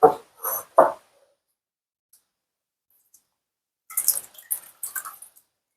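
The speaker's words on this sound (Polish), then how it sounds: "Nakarmiłam mojego storczyka wodą" An orchid plant is watered, with a few short splashes at the start, a pause, then a cluster of small trickling drips and pours, close and fairly quiet.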